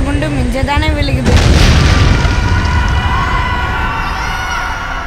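A bomb explosion in a movie trailer hits as a loud, sudden boom about a second in, then rumbles and decays under layered soundtrack and a voice.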